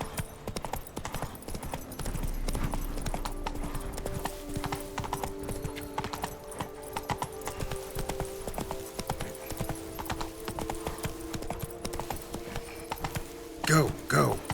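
A horse gallops in The Witcher 3 video game: steady, rhythmic clip-clop hoofbeats run throughout, close and prominent, with a brief louder burst near the end that may include a whinny.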